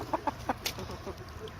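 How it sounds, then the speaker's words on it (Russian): A chicken clucks in a quick series of three short, soft clucks followed by fainter scattered calls, heard fairly quietly. "Курица."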